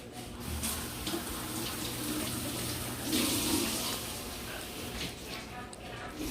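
Water runs steadily from a kitchen tap while countertops are cleaned with hot soapy water, a faint continuous hiss throughout with no clear speech.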